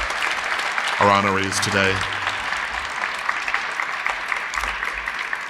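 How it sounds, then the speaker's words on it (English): Audience applause for honorees at a child abuse prevention event, a steady broadband patter running the full length while a voice speaks briefly over it near the start. "Can we just have one more round of applause for all of our"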